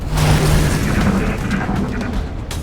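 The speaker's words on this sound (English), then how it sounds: "We're gonna load up this rocket launcher." In the strategy game XCOM Long War, a rocket launcher fires and detonates, a loud, dense boom that rumbles on with gritty blast noise and a few sharper crackles as it settles.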